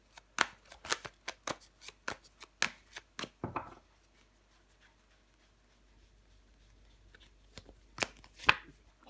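Tarot cards being laid down one after another on a table: a rapid run of crisp slaps and flicks, then a quiet pause, then a few more snaps near the end.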